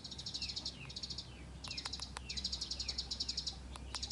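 Sparrows chirping near a bird trap in the countryside: rapid repeated high tweets in short bursts, fairly close, over faint insect buzz and quiet background.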